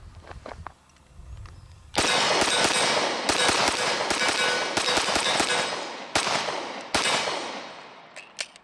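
Springfield Armory XD-45 pistol fitted with a DPM recoil reduction system, fired rapidly: after quiet handling noises, a fast string of about seven or eight loud, sharp shots with short ringing decays, close up.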